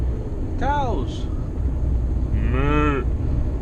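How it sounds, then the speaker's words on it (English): Cattle in a field moo twice, a long drawn-out call followed by a second one, fairly close and heard over the steady rumble of a truck cab driving from Middelburg toward Botlek. "Cows."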